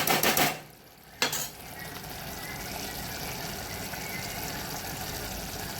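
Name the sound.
tomatoes cooking and being stirred for sev tameta shaak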